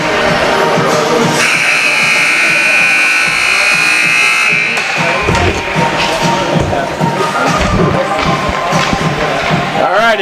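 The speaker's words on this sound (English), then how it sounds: "did you heard the buzzer's going off?" Arena horn blares long and loud at a junior varsity hockey game, sustained for several seconds before fading into the crowd noise and rink chatter that continue underneath.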